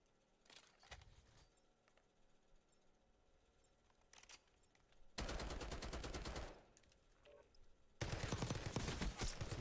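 Gunfire in a video game firing range: a few sparse early shots, then two loud bursts of rapid automatic fire, the second continuing to the end, with quieter clicks and rattles between them.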